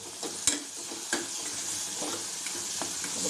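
Chili powder and coriander powder being stirred into masala frying in a pan, a steady sizzle with a few sharp spoon scrapes and taps, close and alone.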